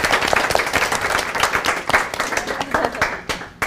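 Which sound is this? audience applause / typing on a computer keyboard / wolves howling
audience applause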